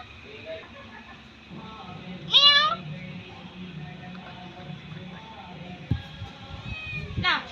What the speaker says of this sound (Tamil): இப்போ அது சாப்பிட்டு முடிச்சோன்னா மியான்னு கத்தும் பாருங்க